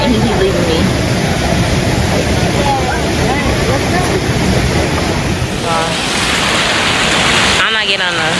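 Rushing water from a rainforest waterfall and slide in Puerto Rico, a loud, continuous broadband roar that fills the whole recording, with a voice briefly audible near the end.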